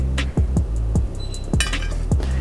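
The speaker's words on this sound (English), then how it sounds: "we're gonna just take it out of the griddle and sit it on our plate" Cooked eggs being lifted off a griddle onto a plate, with several sharp clinks and light knocks of utensil against cookware and plate, spaced about half a second apart, close and fairly loud.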